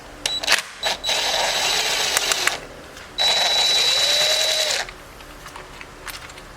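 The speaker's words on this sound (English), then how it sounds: "I'm just going to zap these on out with our impacts" Cordless impact driver backing out T27 Torx screws on a Yamaha YZ250F during an FMF Factory 4.1 heat shield install, with several short rattling hammering bursts and two longer sustained runs, close and loud, separated by quiet pauses.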